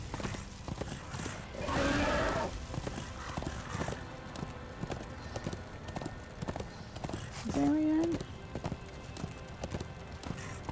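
Horse hooves clip-clopping in the video game Darksiders II: Deathinitive Edition, a steady rhythmic trot close up with two whinnies, while a player talks over it.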